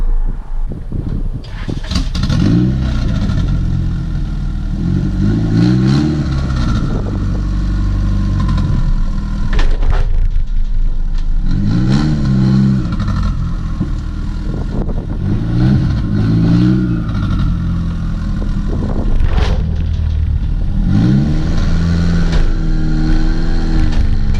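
A budget racecar engine idles and blips with repeated revs as the car drives onto a trailer, loud and close, its rough drone steady throughout and no one speaking.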